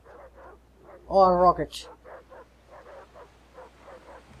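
Dogs in the video game Far Cry 3 give a short burst of barking and yipping, heard under ongoing talk.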